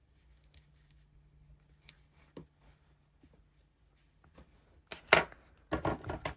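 Scissors cut crochet yarn with a few soft, close snips, ending in a louder cluster of crisp cutting sounds in an otherwise quiet room.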